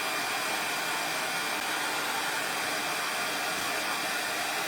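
A heat gun drying craft gilding glue blows with a steady, loud, hissing roar that stays constant and close throughout, with no voices over it.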